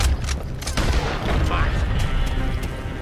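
Gunfire in the Red Dead Redemption 2 video game, a burst of sharp shots and booms over a loud rumbling mix, with a few more cracks following.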